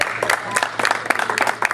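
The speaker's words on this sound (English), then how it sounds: "if I could just hear a round of applause from the single people that are here in the room" Short burst of audience applause from single people at a comedy show, a modest scattering of claps and cheers in a room, lively but thin.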